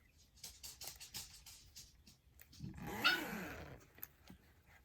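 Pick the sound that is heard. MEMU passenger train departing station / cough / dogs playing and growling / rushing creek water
dogs playing and growling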